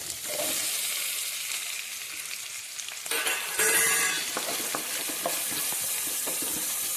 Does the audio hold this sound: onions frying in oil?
yes